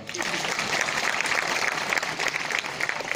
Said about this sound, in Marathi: कलेक्टर साहेबांसाठी टाळ्या वाजवा.